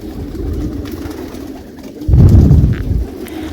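Pigeons kept in Saudi Arabia cooing in low, throaty murmurs, with a louder burst of cooing partway through, fairly close.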